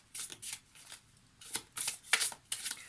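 Tarot cards are handled and drawn for a reading, a series of short, crisp papery riffles and flicks in quick bursts, close and fairly soft, with no talking.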